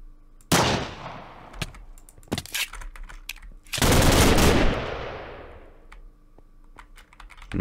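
Gunfire in a GTA-style Minecraft map, heard as sharp cracks and a few dense, loud bursts with decaying tails, scattered irregularly amid softer clicks.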